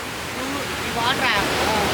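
Water pours steadily over a small waterfall from an overflowing pond, a constant broad rushing sound filling the whole stretch, loud and close.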